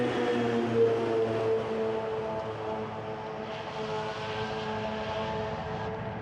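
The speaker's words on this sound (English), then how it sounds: "Emirates A388 going to Sint Maarten" An Emirates Airbus A380 departing Amsterdam Schiphol, a sustained engine roar with droning tonal whine that swells slightly then eases as it passes, moderately distant and without talk.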